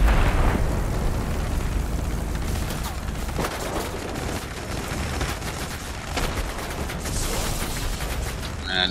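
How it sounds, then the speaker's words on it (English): Aircraft guns fire in World of Warplanes as dense, continuous bursts of rapid shots over a loud, steady engine roar, with a few sharper pops standing out. "Another guy shooting out the side of his plane again."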